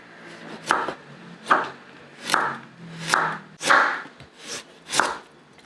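A knife chops a carrot on a cutting board in seven evenly spaced, crisp strokes, each a sharp close knock, with quiet gaps between and no talk.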